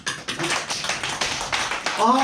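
A church congregation claps along during a Korean sermon, a quick rhythmic run of sharp hand claps with a voice speaking over the top near the end.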